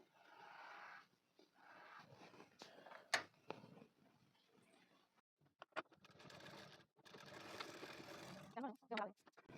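A sewing machine stitches a padded blouse diagonally along marked lines. Whirring runs come in several bursts, separated by brief pauses and sharp clacks, and the machine is fairly close.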